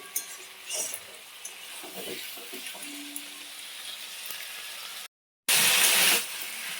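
Cauliflower and potato fry in a pan for a Bengali curry, a soft steady sizzle broken by stirring scrapes, then a brief gap and a sudden louder burst of hissing.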